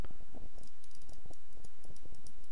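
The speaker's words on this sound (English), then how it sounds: "I'm clicking right now. You can hear my mouse." A computer mouse clicks repeatedly during a Minecraft game session, a rapid run of sharp, close clicks mixed with keyboard-like tapping.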